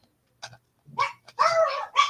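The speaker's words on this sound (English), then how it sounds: "Dogs." Dogs give a few short, scattered yips and barks, then one longer whining bark, all fairly faint and close in an otherwise quiet room.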